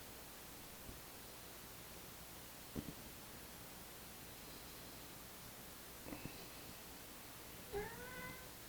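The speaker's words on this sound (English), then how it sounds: "My cat King came to observe." A cat meows softly a few times, short faint calls over a steady hiss of background noise in a quiet room, with the last meow the clearest.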